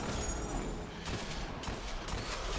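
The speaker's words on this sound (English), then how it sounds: "you'll see the burden of proof just blow him away with a critical shot" The Burden of Proof shotgun fires a critical shot in the Destiny video game. Booming blasts ring out within a loud, continuous wash of combat noise.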